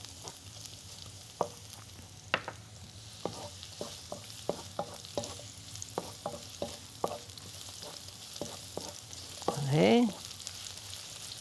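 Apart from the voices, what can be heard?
stir-frying garlic and onions in a pan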